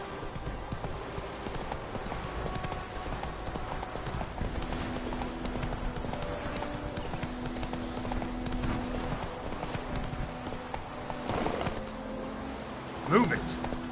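Roach, a horse in The Witcher 3, trots along with a continuous rhythmic clip-clop of hooves over a steady ambient bed, ending in a short sharp jingle of tack near the close.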